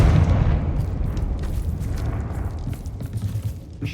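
The Confringo fire-blast spell from Hogwarts Legacy goes off with a heavy, close explosion at the start, fading into a long rolling rumble and a few faint crackling pops.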